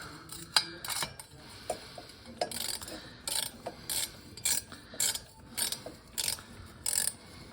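A hand ratchet tightening an exhaust bolt on a Honda TRX250X quad during installation of an HMF performance exhaust, giving a run of crisp, close clicking bursts in an irregular stop-start rhythm, with no talking.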